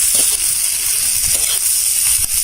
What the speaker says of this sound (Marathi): आता हे मिरची बरोबर सगळं भाजून घेऊया